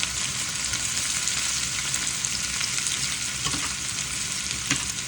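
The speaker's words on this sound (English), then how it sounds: "just start caramelizing them" Onions caramelize in a generous amount of oil in a pan, giving a steady, close hiss and crackle of frying with occasional stirring clicks, continuous throughout with no talk.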